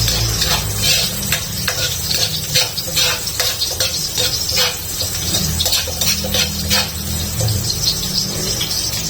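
Garlic sautés in a pan for adobong sitaw, giving a steady, close sizzle with occasional stirring scrapes and a low hum underneath, no talking.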